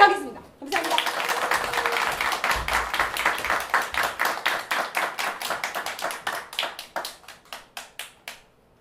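An audience at a Korean literary reading-drama performance bursts into loud, close applause that settles into slow, evenly spaced rhythmic group claps which gradually thin and fade toward the end.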